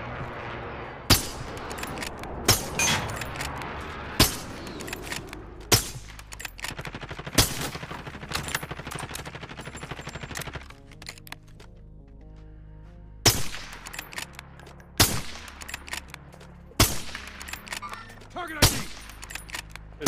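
Repeated gunshots and bursts of automatic fire in a battle royale trios match, sharp loud cracks recurring every second or two over continuous game noise, with voices talking between shots.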